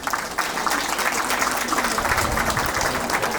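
Crowd applause at a graduation ceremony for a lyceum's graduates, sustained dense clapping from a large audience filling the hall, loud and continuous.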